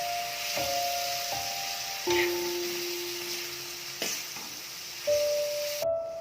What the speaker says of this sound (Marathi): यामध्ये आता आपण कर्दी परतून घेऊया. आपण आता अशी चांगली परतून घेऊया.